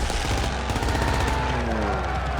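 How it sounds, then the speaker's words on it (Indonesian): Dense, rapid gunfire in a war film as guards exchange shots with a P-51 fighter plane, loud continuous bursts layered over a droning engine and a low rumble. "Pesawat itu disambut tembakan pihak penjaga dan dibalas dengan tembakan yang lebih gencar."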